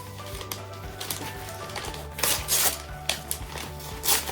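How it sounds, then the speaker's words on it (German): Paper being torn by hand into small shapes, a close series of short ripping and crackling bursts with brief pauses, loudest near the end. "Ihr reißt jetzt einfach aus dem Papier irgendwelche kleinen Formen aus."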